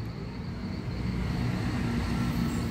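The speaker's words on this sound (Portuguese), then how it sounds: "Acabou de passar um ônibus aí," A bus passes along a street, heard as a steady low engine and road rumble that swells slightly as it nears, with no talking.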